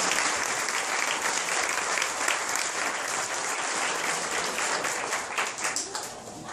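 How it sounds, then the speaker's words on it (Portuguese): A congregation at a Cerco de Jericó prayer meeting applauding, a steady, dense wash of many hands clapping that holds loud and even throughout before easing slightly at the close. "Aplauda essa palavra de vitória na nossa vida."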